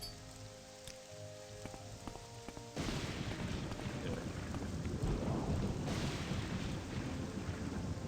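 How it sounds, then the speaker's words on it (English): Thunder and rain in the video game Morrowind on a windswept night: softer ambience gives way to a loud burst of rumbling thunder around midway, followed by steady heavy rain and rolling rumble that swells again later. "On this windswept and rainy night, Vrexia finally attains the rank of Magister, I think."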